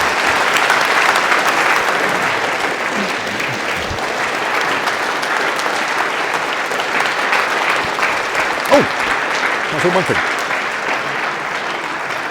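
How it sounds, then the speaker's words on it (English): A lecture audience gives Professor Spiegelhalter a long, loud round of applause, dense and sustained throughout, while a few words are spoken partway through. "Everyone, if we could just join in a big round of applause for Professor Spiegelhalter."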